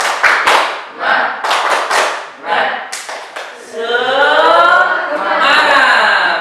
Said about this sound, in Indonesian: kita melakukan tepuk semangat biar kita semangat